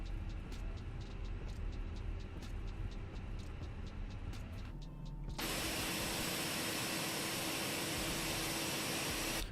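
Fenix A320 jet engines in Microsoft Flight Simulator shift from a steady hum with light mechanical clicking to a sudden, sustained roaring surge for takeoff.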